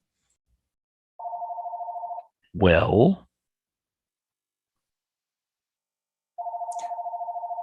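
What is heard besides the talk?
telephone ringing on a call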